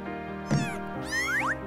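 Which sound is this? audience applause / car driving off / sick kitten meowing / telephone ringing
sick kitten meowing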